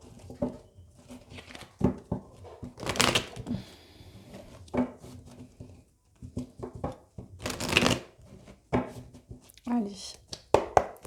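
Tarot cards are shuffled by hand in repeated soft riffling and slapping bursts, interspersed with quiet pauses and a few handling taps, with a person speaking between the shuffles.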